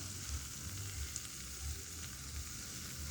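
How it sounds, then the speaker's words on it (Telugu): Garlic pakodi (velluli pakodi) frying in hot oil, giving a steady, dense sizzle that holds evenly throughout with no voices. "ఇప్పుడు వీటిని మనం రివర్స్ తీసుకొని ఆయిల్లోని ఫ్రై చేసుకుందాం."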